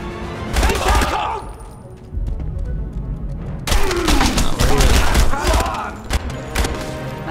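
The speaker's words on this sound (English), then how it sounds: "Shot through the fucking lamp and it didn't go flying over or anything." Gunfire in the shooter video game Enemy Front: loud bursts of rapid shots and heavy thuds crowd the scene, pausing briefly before another dense volley, with voices murmuring now and then underneath.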